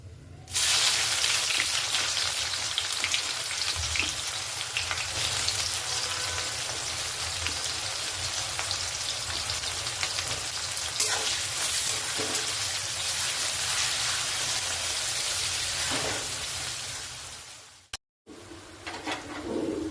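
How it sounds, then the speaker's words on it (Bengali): Sliced onion frying in hot oil with bay leaves and a large cardamom in a pan, a loud, dense sizzle that runs steadily for most of the time before cutting off abruptly near the end. "আমি দিয়ে দেবো আমার কোচানো পেঁয়াজটা"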